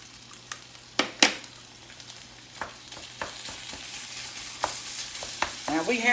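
Meat hitting a pan warmed with a little olive oil for cowboy casserole, sizzling close up while a utensil clacks against the pan in irregular knocks, the frying swelling louder toward the end.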